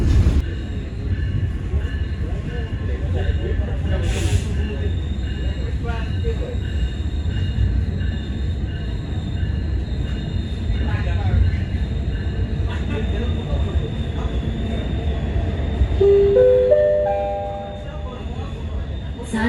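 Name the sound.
KA Commuterline Supas commuter train arriving at Bangil station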